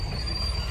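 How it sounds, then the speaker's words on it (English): A truck carrying stones passes close by on a village road, a brief, low, rumbling drone that fills the short moment at moderate loudness. "Let the truck pass."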